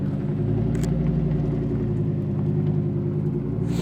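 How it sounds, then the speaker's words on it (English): A 630hp Lamborghini Huracan Performante rolls through dust, a loud, steady, low engine rumble held close for several seconds with no talk. "I'm gonna send my car through it and we'll get some dust kicked up."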